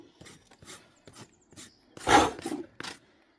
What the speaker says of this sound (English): Rasp it up a little bit.